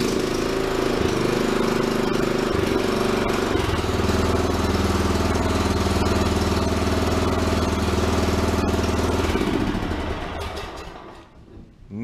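Cold start of a Cub Cadet 760es 33-inch walk-behind mower: the engine catches at once and settles into a loud, steady, close-up idle drone with a knocking rhythm, then winds down near the end.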